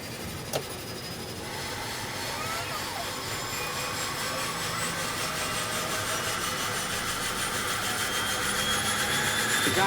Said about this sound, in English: With a short runway, it's also important to take off before the road runs out